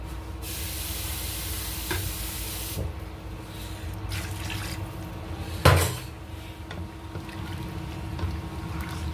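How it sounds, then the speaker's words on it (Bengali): Water is swished to rinse a bowl and poured into a pot of simmering duck curry, a steady running, splashing wash over the first few seconds followed by a brief clunk and quieter kitchen sounds. "আমি আরেকটু পানি দিয়ে দিই বাটিটা ধুয়ে পানিটা দিয়ে দিই আরেকটু পানি"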